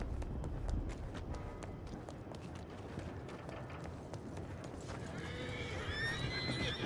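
A video game horse whinnies while hooves clop steadily on the ground nearby, with a sharper, higher neigh rising near the end over a constant outdoor background.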